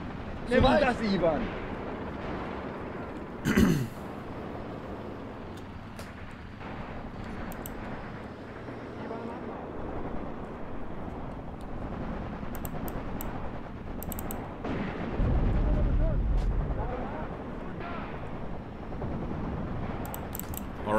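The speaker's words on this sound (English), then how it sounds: "Some mortar fire going on while this is happening." Mortar fire in Graviteam Tactics: Mius Front, muffled distant thuds and a rumbling burst scattered through a long stretch of battle ambience, with voices over the top.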